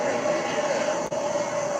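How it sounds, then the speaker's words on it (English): Helicopters fly overhead in a city street scene, a steady loud rotor and engine drone holding constant throughout with only a brief dip near the middle. "y'all hear the helicopters out here? Oh yeah, we got the helicopters out here."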